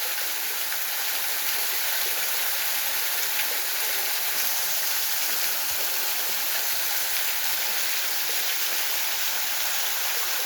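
A waterfall on the Una River pours over rock, a loud, steady, broad rushing roar that holds unchanged throughout.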